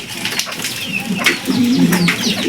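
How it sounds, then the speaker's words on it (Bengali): Pigeons coo close by as they gather to drink freshly set-out water, with soft throaty rolling calls rising in the second half over faint background noise. "পানি দেওয়া শেষ, তখন কবুতরগুলো পানি খাওয়ার জন্য চলে এসেছি।"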